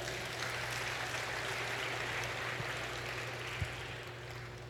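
A church congregation applauds, steady dense clapping that holds evenly and tails off slightly at the end.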